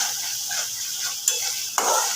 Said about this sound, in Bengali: মশলা কষানোর সময় এর মধ্যে আমি দিয়ে দেব অল্প একটু ঘি